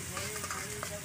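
Pieces of goat intestine hit hot masala in a pan, giving a steady close sizzle and frying hiss with light stirring scrapes throughout a brief moment.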